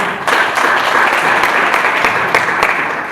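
A conference audience gives a big round of applause, loud and sustained clapping from many people filling the room evenly, with no voices over it.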